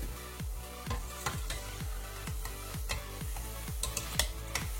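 Banana and corn fritters fry in hot oil, with a close, continuous sizzle cut by a regular series of quick stirring or scraping strokes about twice a second.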